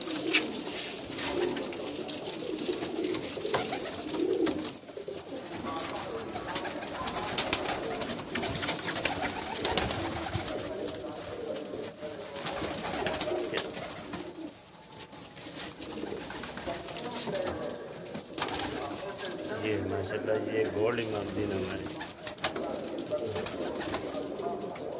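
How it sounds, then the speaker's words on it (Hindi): Pigeons of an old breed cooing on a rooftop, a steady murmur of low coos running throughout amid background noise and scattered voices. "उन कबूतरों का ज़रा शौक करवाया अपने दोस्तों को"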